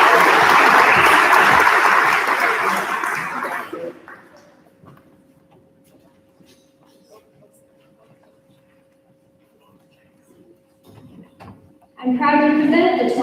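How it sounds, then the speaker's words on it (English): An audience gives loud, sustained applause for the 2026 State Scholars at a school awards night. The clapping fades to a quiet room with a faint steady tone, then a fresh burst of applause breaks out near the end. "Please give them a round of applause."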